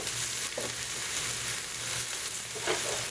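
Italian sausage browns in a pan as stuffing for grilled eggplant, giving a steady, close sizzle that runs throughout with a couple of brief stirring scrapes and no talking.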